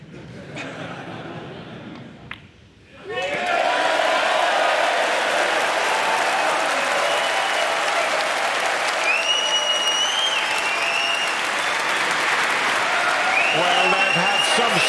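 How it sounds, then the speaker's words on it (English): Sustained applause from the Alexandra Palace crowd at a snooker semi-final after a century break, dense, even clapping that swells in after a brief lull and holds steady, with a commentator's voice over it. "a terrific round of applause from this Ali Pali crowd"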